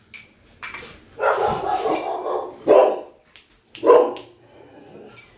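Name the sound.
dog barking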